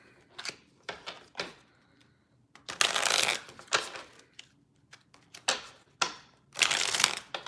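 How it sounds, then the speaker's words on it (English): Several bursts of playing cards being shuffled, riffling loudly in quick sets with brief pauses between them, close to the microphone. "3 more shuffles"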